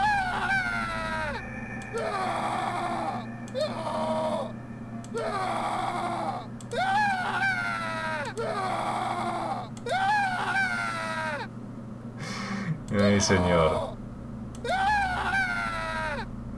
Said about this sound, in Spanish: supongo que será porque están gritando los muñecos